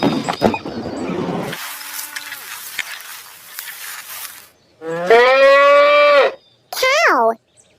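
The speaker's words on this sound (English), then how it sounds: "Cow." Domestic farm cow mooing in two loud, drawn-out calls, the first long and steady, the second shorter and rising, heard alone after a quieter stretch of faint background noise.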